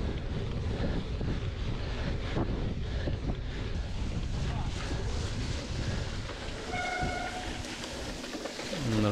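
Wind gusting across a rainy, muddy mountain bike race course in Telšiai, Lithuania, roars steadily against the microphone, a loud, continuous rumble with no clear break.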